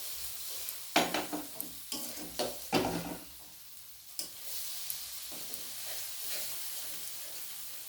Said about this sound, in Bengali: এবার আমি ওই মশলাটা দিয়ে দেবো। দিয়ে আমি কিছুক্ষণ কষিয়ে নেব।